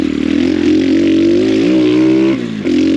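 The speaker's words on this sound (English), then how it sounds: "it's a little bike, so you gotta get in the upper RPMs to really lock into that power" Small X Pro Storm 150 DLX dual sport motorcycle engine revving steadily in the upper RPMs, a loud, close, buzzing tone that climbs slightly, then briefly dips and recovers near the end.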